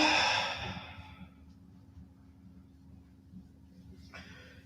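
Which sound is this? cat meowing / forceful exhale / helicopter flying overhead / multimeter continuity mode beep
forceful exhale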